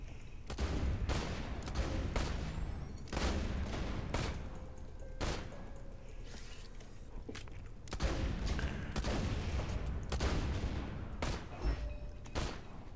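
Sniper rifle gunfire in Borderlands 2, a steady run of loud, sharp reports, roughly one or two per second, over a continuous rumbling battle background with no talk.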